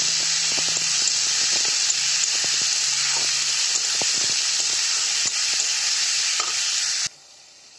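Bamla fish sizzles loudly in hot frying oil, a steady dense crackle with bursts of spattering and stirring, cutting off abruptly near the end.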